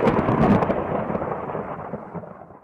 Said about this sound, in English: He encountered a storm.